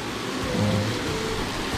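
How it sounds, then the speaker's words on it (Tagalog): Heavy rain pours steadily on the trip home from Burias Island, a dense, loud, unbroken hiss filling the air with a low rumble beneath. "Ayan, napakalakas ng ulan."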